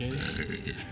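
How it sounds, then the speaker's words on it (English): A single short burp after a hard uphill training run, close and loud, lasting about a second with a low rough tone, as one name is spoken. "That's a vomit burp."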